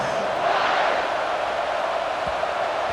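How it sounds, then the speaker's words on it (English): Stadium crowd in College Football 26, a dense, steady roar of many voices buzzing continuously at moderate loudness without distinct cheers. "this crowd is buzzing after that last score"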